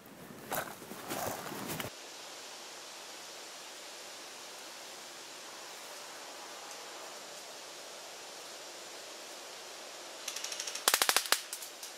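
A Cyma M14 SOCOM airsoft rifle fires at a target from 125 feet, with a short burst of sharp reports at the start and another cluster of rapid shots near the end, separated by steady background hiss.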